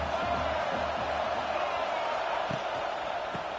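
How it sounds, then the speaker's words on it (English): Stadium crowd roars steadily throughout a South Carolina vs Oklahoma college football game, a dense, loud wash of cheering and noise that builds as the play sets up. "this crowd is turning it up a notch"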